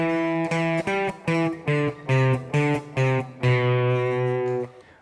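Electric guitar playing a riff variation; clean, separated single notes pick out a steady rhythmic figure, ending on a long sustained note that fades out, with no one talking.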